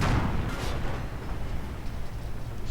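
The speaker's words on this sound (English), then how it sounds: "Nebelwerfer fire though, firing towards the west." Nebelwerfer rocket artillery firing westward in a World War II real-time strategy game: a dense, continuous rumble of launches and distant blasts, loud at the start and easing into a steady low roar throughout.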